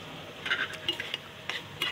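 Brinjal, tomato, onion and a little potato being stirred and sautéed with spices in a pan, with scattered scraping and clinking of a spatula in short bursts, fairly faint with no sizzle standing out.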